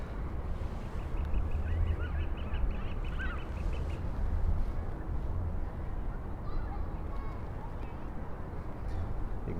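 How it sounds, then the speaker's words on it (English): Geese or ducks honk and call in Central Park, New York City, on a spring day, a scattered series of short calls rising above steady low outdoor rumble and distant city noise. "You can probably hear the birds."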